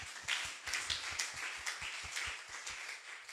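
A church congregation claps for God in a quick, regular unison rhythm, roughly three to four claps a second, close and distinct over a light background of crowd noise.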